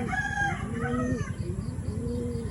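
A gamefowl rooster crows close by, with several drawn-out calls and short clucks that overlap one another against farmyard background noise.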